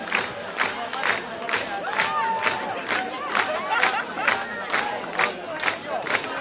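A live show audience claps in steady unison, each loud, even clap landing about twice a second, with crowd shouts and voices mixed in.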